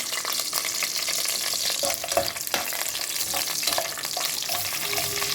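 Green chillies fry in a pan with a dense, continuous close sizzle, a spoon scraping and stirring through it at intervals; no voices.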